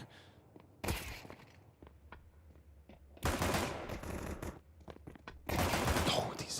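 Gunfire in Counter-Strike 2 at a professional tournament match: rapid rifle bursts and loud volleys arrive in three bunched clusters, with softer scattered shots and game noise in the gaps.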